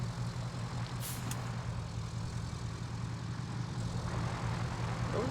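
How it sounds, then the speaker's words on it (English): Heavy truck engines in the RoadCraft video game rumble at a steady low idle, faint and continuous, with a brief hiss partway through and no talk. "I was still hearing sounds of vehicles"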